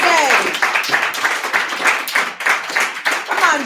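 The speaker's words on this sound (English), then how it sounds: "Clap Joey all the way to the stage" Audience clapping at a poetry and pints open-mic night, steady rhythmic hand claps from a crowd close by, with cheers and voices mixed in as a performer walks to the stage.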